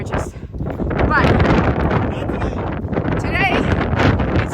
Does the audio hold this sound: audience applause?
no